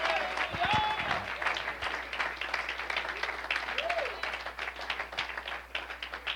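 A church congregation applauding during a Spanish-language service, a dense, steady wash of many hands clapping throughout, with scattered voices calling out over it.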